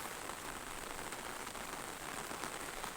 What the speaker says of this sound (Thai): บรรยากาศวันฝนตก